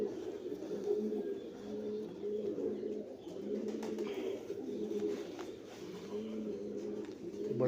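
A breeder pair of Lal Badshah pigeons coo softly and repeatedly in a steady, rolling rhythm, fairly close and unaccompanied by talk.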